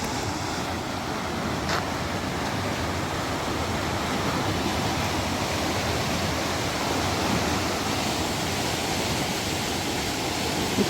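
Water rushing out of Thames Lock on the Wey Navigation as the lock drains, a steady, loud, broadband roar of churning water, continuous and unbroken, with no voices over it.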